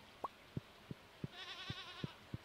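Goats bleating on a farm in the video game Stardew Valley, a faint wavering bleat in the middle of the clip alongside a series of short, evenly spaced clicking taps.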